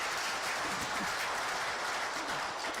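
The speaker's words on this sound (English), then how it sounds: "Another round of applause to ourselves." Sustained round of audience applause at a customs day ceremony, a steady, moderately distant patter of many hands with no speech over it.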